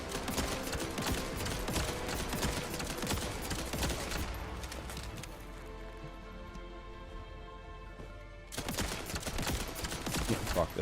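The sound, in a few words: gunfire from a gun in the video game The First Descendant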